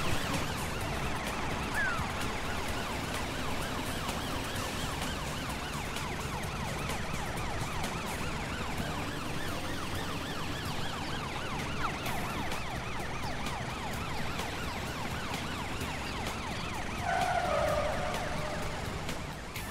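A cartoon police patrol car's siren wails continuously with a rising and falling tone, loud and steady throughout, with no talking over it.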